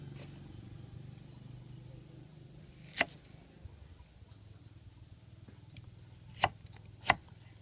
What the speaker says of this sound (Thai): หั่นเป็นเส้นๆนะครับ